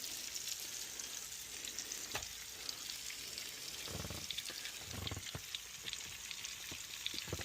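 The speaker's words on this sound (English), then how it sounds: "Face down with that seasoning in the butter, and we're going to fry that up" Potatoes frying face down in butter with seasoning in a pan, a steady soft sizzle and crackle throughout with a few louder pops and stirring bumps, close and with no talking.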